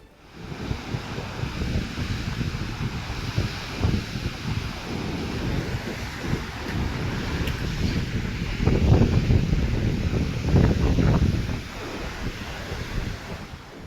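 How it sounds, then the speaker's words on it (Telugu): Strong gusty winds of Cyclone Fengal along the Chennai and Puducherry coast roar steadily, buffeting the microphone as a low, rumbling rush that swells into a heavier gust midway before easing again. "చెన్నై, పుదుచ్చేరిలో బలమైన ఈదురుగాలులు వీస్తున్నాయి."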